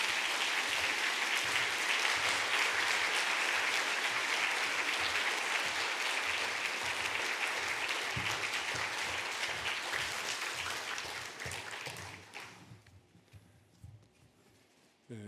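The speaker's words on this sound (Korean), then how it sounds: "우리 한번 박수로 환영하겠습니다." Sustained applause from a large church congregation welcoming pastors, loud and steady for about twelve seconds, then fading quickly into near quiet.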